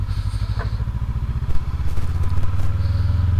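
A 2019 Honda CB500X motorcycle rides through snow in Oregon, its engine thrumming close and steady with a pulsing low rumble, clattering bumps from the road breaking in over the second half.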